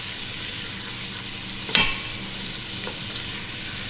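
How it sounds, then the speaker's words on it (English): Sausage being stirred as it fries in a pan, with a steady broadband sizzle throughout and a couple of brief scraping clatters from the utensil, no talking. "Make sure you stir them while you are chopping them"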